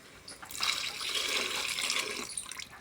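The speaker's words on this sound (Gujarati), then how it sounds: "હવે એમાં થોડુંક પાણી આપણે એડ કરી લઈશું." Water is poured into a pan of pigeon pea and chilli kadhi, a steady close splashing pour lasting a couple of seconds with no one talking over it.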